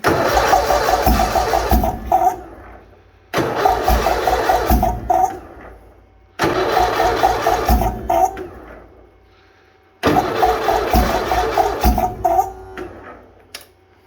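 Bolens HT-23 tractor engine cranking in -40 degree cold, four separate long cranking bursts of loud, close, laboring churning, each stopping without the engine firing, silent gaps between.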